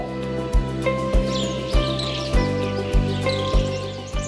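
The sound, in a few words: birds chirping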